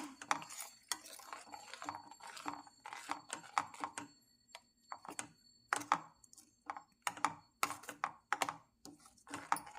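Radish chutney is mixed in a bowl with a spoon, a series of close, sharp clicks and scrapes in an irregular rhythm, with brief pauses and no speech.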